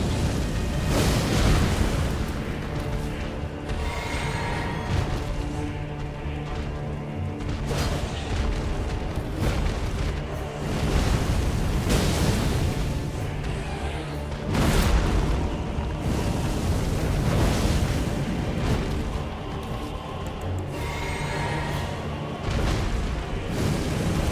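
Dense, rumbling explosive blasts from a boss's ground explosion attack in Elden Ring fill the stretch, repeated heavy booms layered over a constant roar of game noise and music, loud throughout without speech.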